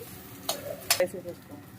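Egg rice with chili powder mixed in is stirred in a pan, giving a few soft scrapes and light clinks of a spoon over a faint sizzle, all close and fairly quiet.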